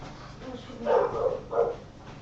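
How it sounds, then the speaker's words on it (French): Dogs bark a few times in muffled bursts, as if from behind a door or in another room, over a low background hum. "nos chiens ils aboient tout le temps"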